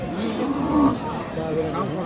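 Cattle lowing in a busy outdoor market, with people chattering nearby throughout; Sahiwal bulls and calves at Ambari cattle market, Dinajpur.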